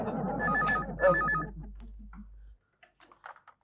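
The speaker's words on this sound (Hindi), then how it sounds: "हाँ राहुल, दूसरा फोन आया है, तुम जरा होल्ड करना।" A telephone rings with a repeating electronic trill, fairly loud, then stops, followed by a few faint soft sounds in near silence.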